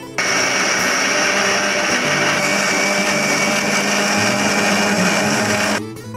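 A mixer grinder whirs loudly and continuously as it grinds dal, cumin, green chilli and salt for raw mango dal, a close, steady motor drone that starts abruptly and cuts off just before the end.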